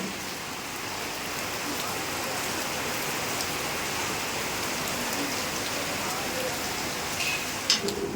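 Steady, heavy rain pours down continuously, a dense hiss with water splashing on surfaces and a few faint clatters near the end.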